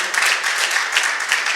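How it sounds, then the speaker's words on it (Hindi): An audience at a Hindi poetry festival claps loudly to welcome a speaker to the stage, a brief burst of dense, steady applause heard close and alone. "तो हम आमंत्रित करेंगे जोरदार तालियों के बीच डॉक्टर अंचित।"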